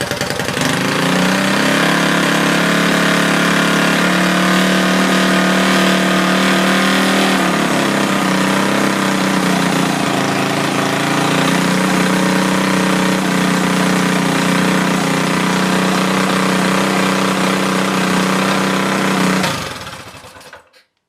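Small Honda clone engine mounted on a pressure washer stand, running loud and close at a high idle with a steady droning hum and a slight dip in pitch before it shuts off near the end.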